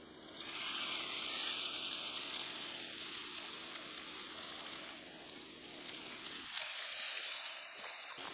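Chicken skewers sizzling in a hot pan with olive oil, a loud, steady hiss of frying that carries on alone for several seconds and eases slightly toward the end.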